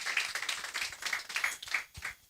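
Scattered clapping from a small audience at a Girls in ICT Day event in Kenya, a short, thin round of hand claps close by with no voices.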